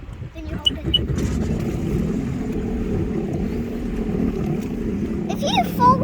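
A Sea-Doo Spark Trixx jet ski engine turns over and settles into a rough, throbbing idle up close. Water splashes around it, and high-pitched voices briefly cut in near the end.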